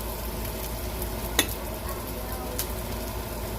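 Turkey sisig sizzles in a pan while being stirred, making a constant dense frying hiss with one sharp utensil clack in the middle and a fainter one later.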